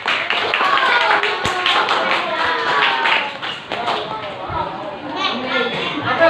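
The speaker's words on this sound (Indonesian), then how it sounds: "boleh diberi apresiasi dengan cara tepuk tangan" Students clap their hands in a school classroom during a coding and AI lesson, with scattered taps over steady children's chatter and talk throughout.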